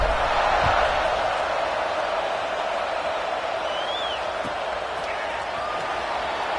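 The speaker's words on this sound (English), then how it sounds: "this crowd is buzzing after that last score" A football stadium crowd buzzes after a score, a loud, continuous roar that washes steadily across the whole stretch with no break.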